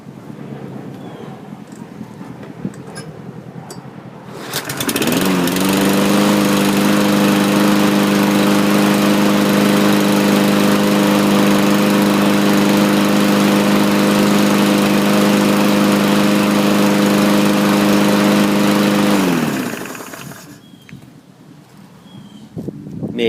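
A small lawn-equipment engine with a Honda-style carburetor, drain on the bowl, runs steadily at a loud, even idle for about fifteen seconds, then cuts out, with quieter handling noise before and after.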